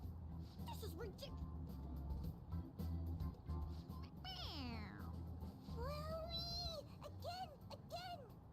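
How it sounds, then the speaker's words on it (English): A toy cat in the Persona 5 Royal video game meows when its head is pressed, giving two or three clear, drawn-out mews over a soft game background, close and distinct. "It meows when you press on its head."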